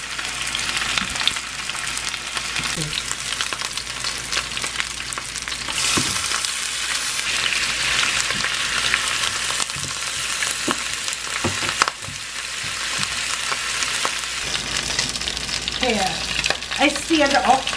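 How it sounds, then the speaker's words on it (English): Oxtail sears in hot vegetable oil in a pan, giving a steady, close sizzle and crackle with occasional stirring scrapes throughout. "I sear the oxtail very good, okay?"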